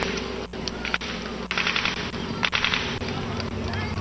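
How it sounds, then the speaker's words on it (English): Gunfire at a Memorial Day parade in Gainesville sounds as a rapid run of sharp reports at regular intervals, fairly loud against a busy outdoor background, with speech mixed in. "I'm hearing gunfire."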